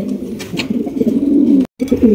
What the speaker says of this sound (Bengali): এখানে দেখতে পাচ্ছি জার্মান শিল কবুতর আছে